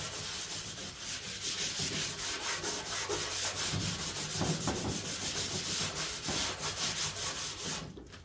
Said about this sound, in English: Might have to get a little stronger sandpaper on this.